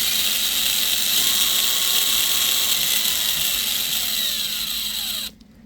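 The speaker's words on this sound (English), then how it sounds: "You can hear that the gears are kind of bedding in and clattering a little bit." An Injora LCG RC transmission spins at speed, a steady high whine with slight gear clatter as the gears bed in, loud and close, cutting off abruptly near the end.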